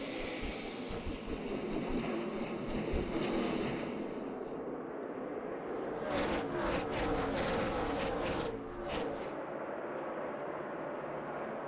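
NASCAR Sprint Cup stock cars roar into turn 1 at Phoenix, a loud rumbling pack of engines sweeping past, fading, then a second surge of cars passing close before easing off.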